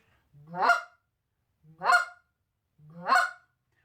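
Three short clucks blown on a goose call, each a quick low-to-high honking note, evenly spaced and fairly loud against silence.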